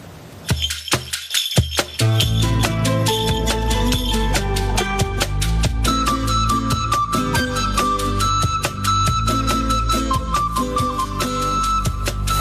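A medieval-style remake of a pop song, with bright plucked strings over steady percussion and a droning low end in a brisk, busy rhythm; a few sparse notes open it before the full arrangement enters, and nobody speaks.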